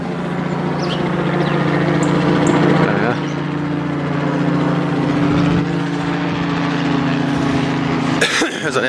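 A helicopter passes overhead on a Yorkshire walk, its rotor drone loud and steady for most of the stretch before fading, with a brief clatter near the end.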